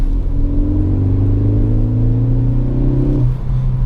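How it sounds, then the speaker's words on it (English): A 2017 Ford Focus ST in sport mode with traction control off accelerates hard in third gear on a snowy, slippery road. The loud engine note climbs steadily from inside the car, then drops off abruptly as the throttle is released. "we'll punch it here in third gear and see what happens"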